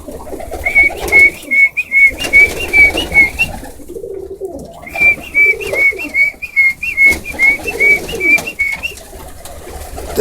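Tippler pigeons coo steadily while being fed, a run of repeated soft calls that pauses briefly in the middle, then resumes, close and fairly loud over a low background rumble.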